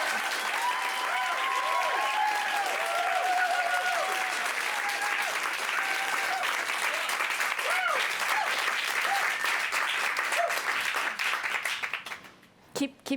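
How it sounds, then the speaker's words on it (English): Big audience applause at a magic show, steady and loud for about twelve seconds with scattered cheers and whoops, then fading out abruptly near the end. "Keep clapping."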